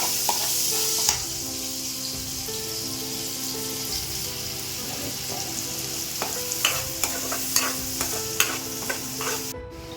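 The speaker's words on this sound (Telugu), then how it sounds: "ఇక్కడ ఉల్లిపాయలు వేసుకోవాలండి ఉల్లిపాయలు ఒక పచ్చిమిరపకాయ" Onions and green chili frying in a pan, a loud continuous sizzle with repeated spatula scrapes and taps against the metal, no talking.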